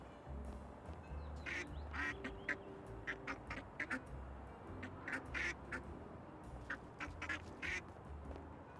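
Repeated duck quacks in the video game Little Kitty, Big City, a steady run of short calls over a low ambient music bed, fairly close and clear with no talking.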